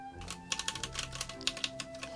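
Typing on a Womier K87 mechanical keyboard with brown switches and blank keycaps, a quick, uneven run of close, crisp key clacks, faint and alone.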